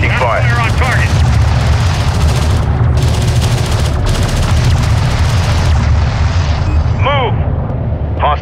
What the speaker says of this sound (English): Armored vehicle is taking fire. Fire on target.